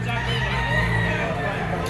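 A yellow-legged gamecock crows once at a rooster market in Lipa, Batangas, a short, close, ringing crow over murmuring voices and background babble.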